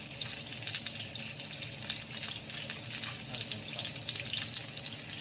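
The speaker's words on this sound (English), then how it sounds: "Flip the fillet and cook the other side for another 4 minutes." A salmon fillet frying skin-side in a pan, a soft, even, continuous crackling sizzle at low volume with no voices.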